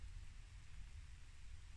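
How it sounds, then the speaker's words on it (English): Steady rain falls through a summer evening at an outdoor chicken coop build site, a dense low rumble and hiss that may carry distant thunder, continuous and fairly quiet with no talking. "Yeah, it's raining."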